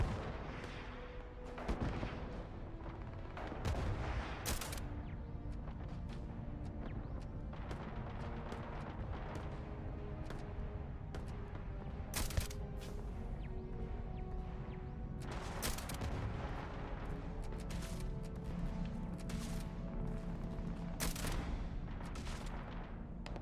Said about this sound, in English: what in the world is shooting at you and that you are shooting at